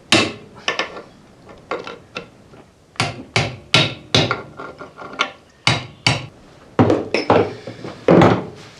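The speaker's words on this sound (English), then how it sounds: "hold that nice and firm, and then give it a solid whack." Hammer blows on a gearbox part during a Series 1 Land Rover restoration, a run of sharp metallic strikes in irregular clusters, close and loud, with no speech.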